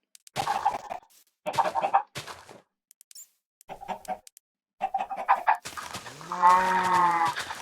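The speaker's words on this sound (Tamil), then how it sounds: "நாலு கோழி" Minecraft chickens clucking in short bursts separated by silences, ending with a loud, drawn-out rooster crow. No talking.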